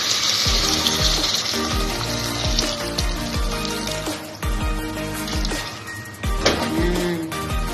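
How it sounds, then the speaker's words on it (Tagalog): Boiled water pours into a pot of kabsa with a continuous splashing, gurgling flow, punctuated by a few clanks and knocks of the pot nearby; no one speaks. "Lagyan na natin ng pinakulong tubig."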